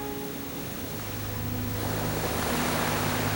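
Ocean waves and seawater wash over a low coastal road barely a metre above sea level in Tuvalu, a loud continuous roar of surf and rushing water with wind buffeting, swelling slightly toward the end, with no voices.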